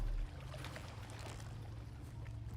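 Splashy, sloshing water from a video game character wading through a shallow stream, a steady low churn with faint trickling on top, close and continuous with no voices.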